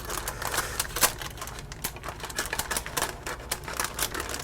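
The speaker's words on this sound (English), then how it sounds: "just with a pair of kitchen scissors, cut down close to the edge of that paper" Kitchen scissors snipping baking paper away from the edge of a toffee date cake: a steady run of small, close, crisp cuts and rustles in a quick, slightly uneven rhythm, with no talking.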